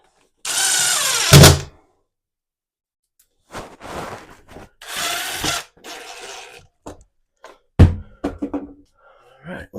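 Power drill driving screws during a toilet installation, several short bursts of whirring motor separated by silences, close and loud, with a few faint knocks between.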